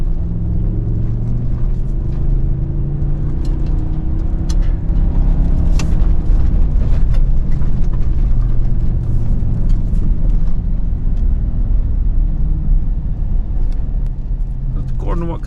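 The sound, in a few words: Ford 7.3 gas truck engine climbing while heavy towing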